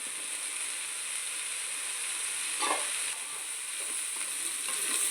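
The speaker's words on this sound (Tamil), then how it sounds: "இப்போ வந்து நம்ம ஃப்ரை பண்ணியிருக்க சிக்கனை போட்டுக்கலாம்." Fried chicken pieces tipped into a pan of sizzling sautéed vegetables for chicken fried rice, giving a steady close hiss with a brief louder burst of crackle partway through and light scraping.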